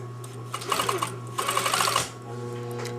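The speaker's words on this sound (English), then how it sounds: "And then I'm sewing slightly to the left of them so that I don't ever see that gathering thread." A sewing machine stitches a gathered seam just left of the gathering thread, two bursts of rapid close mechanical whirring over a steady low motor hum, followed by a quieter stretch.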